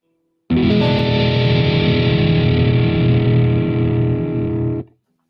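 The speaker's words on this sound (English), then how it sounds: "These two chords sound so dissonant because the distortion brings out the clashing harmonics" A kite guitar chord rings out through heavy distortion, struck once and held as a loud, sustained, buzzing wash for about four seconds before being cut off abruptly.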